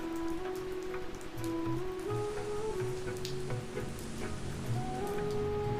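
Steady rain falls during a storm in a cartoon story village, a dense continuous patter on surfaces at moderate level, with faint musical tones running underneath and no speech.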